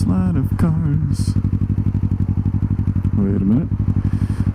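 Motorcycle fitted with a Delkevic SS70 slip-on exhaust idling with a steady low rumble and rapid regular pulsing, close by, while a person talks over it in short bursts.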